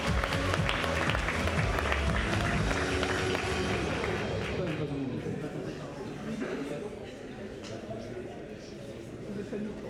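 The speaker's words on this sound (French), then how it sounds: "je vais vous demander d'encore une fois applaudir bien fort Jacques" Audience at a school talent show applauding loudly for a performer, a dense wash of clapping that is strongest at the start and then gradually thins and fades.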